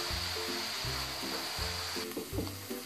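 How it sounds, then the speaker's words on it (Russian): Shredded cabbage and carrot stew in a pan as a filling for a cabbage pie. A steady close sizzle runs throughout, with a few soft stirring knocks. "Протушу капусту вместе с морковью до мягкости моркови."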